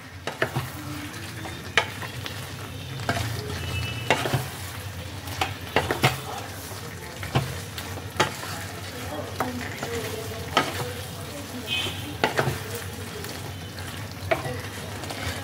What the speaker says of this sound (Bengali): পনিরগুলোকে এবার ঝোলের মধ্যে ভালো করে মিশিয়ে নিতে হবে।